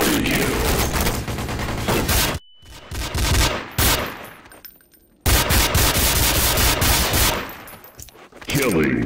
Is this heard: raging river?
no